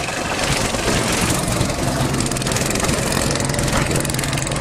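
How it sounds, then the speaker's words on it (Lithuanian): Go-kart engines on a wet outdoor track in Šiauliai run with a loud, steady buzzing drone that fills the whole stretch, close by and without talk. "Varikliai."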